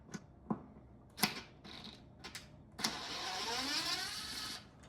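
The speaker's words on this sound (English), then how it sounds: "We're going to be using a T20, T20 to remove these 4 screws right here." A T20 Torx driver backs out sheet metal screws on a 2026 Can-Am Defender HD11 Max Limited. Several sharp, close clicks are followed by a sustained, rasping whir that fades at the end.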